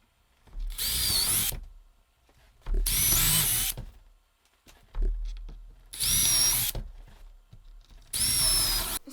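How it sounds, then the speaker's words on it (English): A power drill boring pilot holes into wood for a DIY headboard: four separate loud bursts of whining motor and bit grinding, each lasting about a second, with short silent gaps between them. "So I'm going to pop pilot holes in them all"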